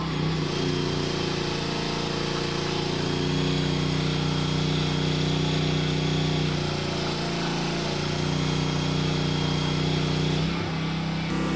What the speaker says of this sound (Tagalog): Tingnan nyo kung gaano kalakas yung 2-in-1 inverter welding generator na ito.